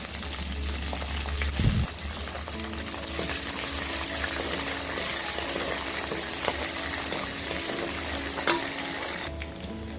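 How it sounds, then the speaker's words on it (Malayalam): Chopped onion and ginger sautéing in a pan for okra tamarind curry give a steady close sizzle, with occasional clinks and stirring scrapes and a brief low thump near the start. "ഉള്ളി ഒന്ന് വഴന്നു വന്നിട്ടുണ്ട്."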